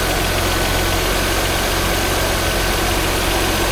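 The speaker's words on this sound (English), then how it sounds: "The AC clutch is in and spinning." A Vauxhall Omega's engine runs steadily at idle with the air-conditioning clutch engaged and spinning, giving a continuous loud mechanical hum and whir from close by with no talking.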